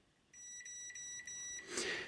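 A continuity tester beeps while checking cable wires, giving a steady electronic tone broken by several short gaps into repeated beeps, followed by a brief rustle.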